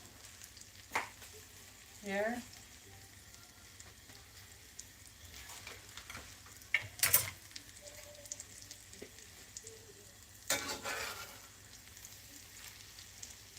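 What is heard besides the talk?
machaca egg and shredded beef cooking in skillet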